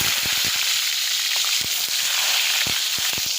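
Chopped tomato hits hot oil already seasoned with dried red chili, bay leaf and cumin seeds, giving a loud, steady sizzle and hiss close up, dotted with small pops and spatters throughout.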